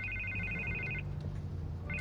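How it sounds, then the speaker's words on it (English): A telephone rings with a steady electronic warble, one burst lasting about a second, a pause, then the next ring starting, fairly close over a low background hum. "I can't get the phone to stop ringing"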